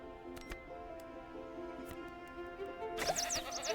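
A goat bleats in the video game Preserve, a short animal cry rising near the end over a steady layer of game ambience and music.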